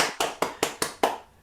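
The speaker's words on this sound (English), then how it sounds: "Virtual applause and real applause." A single person claps six distinct, evenly spaced times at the close of an academic film education conference talk, near and crisp, then silence.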